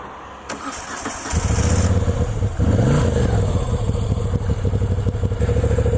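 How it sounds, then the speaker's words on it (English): A brand new Moto Guzzi V7 motorcycle cranks and fires up after a click, settling into a loud, close, throbbing idle with a brief rev swell and a steady low rumble, no talking. "So this is a brand new Moto Guzzi V7."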